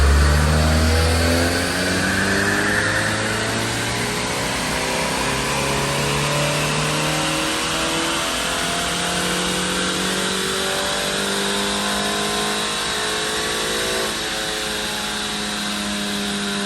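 A 2019 Mazda 3 AWD on stock tune revs hard on a chassis dyno, the engine note sweeping steadily upward through the gears in long rising harmonics, loud and close with a constant roar of rollers and fans underneath.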